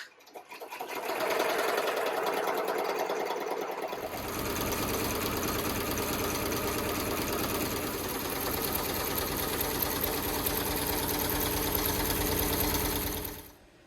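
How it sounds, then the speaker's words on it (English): A new embroidery machine stitching out a design runs with a loud, rapid, steady mechanical whir and needle chatter, starting after a second of quiet and running unbroken for about twelve seconds before stopping abruptly. "I'm going to let it stitch out all the rest."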